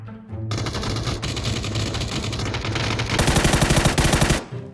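Rapid automatic gunfire from a multiplayer shooter game, loud and sustained, with bursts running continuously and a denser, harder volley near the end before cutting off.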